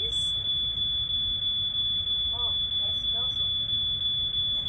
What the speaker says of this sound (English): Well, it wouldn't be turkey day without Jen setting off the smoke alarm.